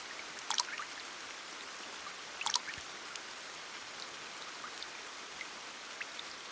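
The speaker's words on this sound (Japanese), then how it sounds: "雨の音は本当に心地よいものです" Rain falling at night makes a soft, steady hiss, with a few sharper drips and patters standing out near the start and scattered through, all faint and with no voices.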